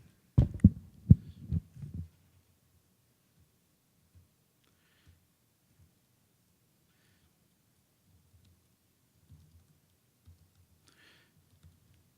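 Keystrokes on a computer keyboard during a Go programming demo: a quick, close burst of several sharp clicks in the first two seconds, then near silence with faint low rumble.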